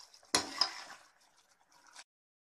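Garam masala being stirred into a mushroom curry in a pan, with two sharp clinks of a spoon against the pan early on, then softer scraping and faint stirring that stops after about two seconds.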